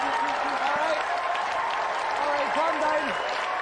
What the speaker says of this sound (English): crowd go wild